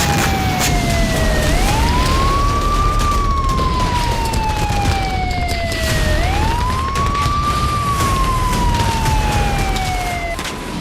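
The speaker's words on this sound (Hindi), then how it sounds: "शहर में आग है, धमाके हैं और सायरन गूंज रहे हैं।" Wailing air-raid or emergency sirens over the Ukrainian city of Odesa under Russian missile attack, two long rising and falling cycles, loud and continuous with no voices.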